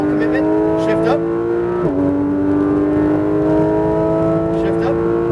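A Porsche GT3 RS engine on a racetrack accelerates hard with rising revs, drops pitch at an upshift, then climbs again under steady throttle, loud and close, with a voice talking over it.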